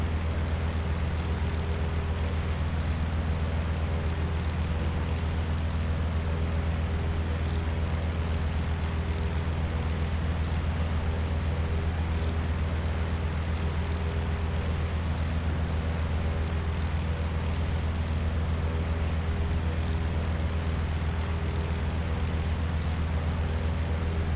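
A small airplane's engine drones steadily during flight, a loud, constant low hum that fills the cabin with no talking over it.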